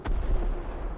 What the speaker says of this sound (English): That's the Panzer IV shooting at me